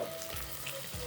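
Boiled palak spinach hits a hot pan for green pulao with avarekalu beans, giving a steady close sizzle and frying hiss with light stirring.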